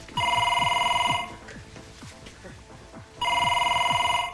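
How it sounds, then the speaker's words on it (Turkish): An old landline telephone bell rings loudly in two bursts of rapid trilling, separated by a stretch of muffled background sound; the rings are close and clear. "Telefon çalıyor."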